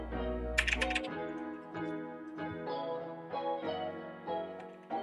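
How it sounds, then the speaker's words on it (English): Keys clatter in quick irregular bursts of typing on a keyboard, close and clear, over a faint held tone at the start. "Typing on a keyboard? Correct."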